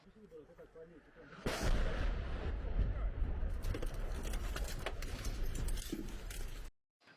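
Artillery fire and strikes in fierce fighting around Bakhmut, heard as a dense run of booming blasts and crackling gunfire that rolls on for several seconds before cutting off abruptly, with some voices underneath.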